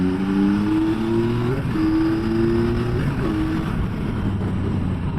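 A Yamaha Tracer 9 GT+ motorcycle engine revs and climbs in pitch, steady and loud, shifting gears once midway before continuing to pull.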